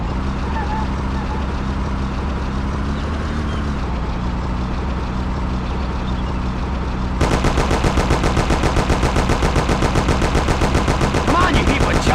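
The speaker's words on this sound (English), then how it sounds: "Take my Thompson. You and Sam shoot them." Thompson submachine gun fire in the PS2 game Mafia, a loud, continuous, rapid automatic burst that starts suddenly partway through and runs to the end over a steady engine and road rumble.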